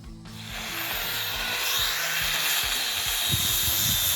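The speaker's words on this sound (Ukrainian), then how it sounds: "Готові 3-метрові дошки шліфуємо, щоб були гарненькі, гладенькі." A steady, continuous abrasive rasp of 3-metre wooden fence boards being sanded, close and fairly loud, with occasional low knocks underneath and no talking.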